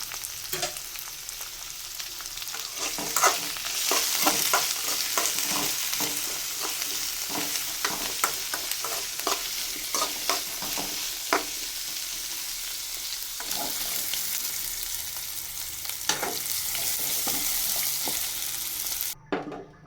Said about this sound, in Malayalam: കടലപ്പരിപ്പ്, തക്കാളി, വേപ്പില, ഇത്ര സാധനമിട്ട് നമ്മൾ വഴറ്റിയെടുക്കുന്നു.